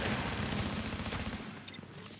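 Rapid bursts of gunfire from a Minecraft 1.8.3 group PvP shooter match, loud and close, running continuously with no talk over it.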